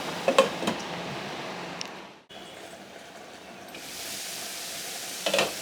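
Potato and fenugreek (aloo methi) fry sizzles steadily in a pan on low heat, a soft continuous crackle with a few light clinks of a utensil against the pan near the start and end.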